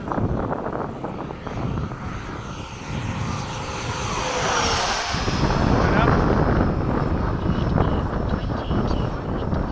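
A Hobby King 90mm MiG-17 RC model jet roars at full throttle over an airfield, a loud steady ducted-fan whine that swells as it passes, with some wind noise.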